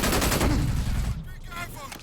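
Gunfire in the first-person shooter Brink: a close, loud burst of rapid automatic shots that breaks off, followed by scattered fainter shots and game sounds, with a voice calling out.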